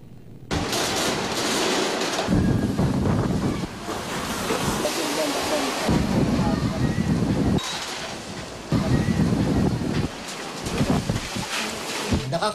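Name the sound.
strong typhoon wind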